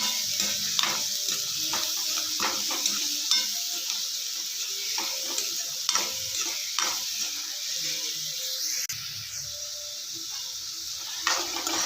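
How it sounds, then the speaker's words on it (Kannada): Onions stirred in oil in a pan for an egg curry, with a soft continuous sizzle broken by repeated scraping clicks of the spoon against the pan, close and unhurried. "ನಾಲ್ಕು ಸ್ಪೂನ್ ಎಣ್ಣೆ ಹಾಕ್ಕೊಳ್ಳೋಣ ಚೆನ್ನಾಗಿ ಮಿಕ್ಸ್ ಮಾಡ್ಕೊಳ್ಳೋಣ"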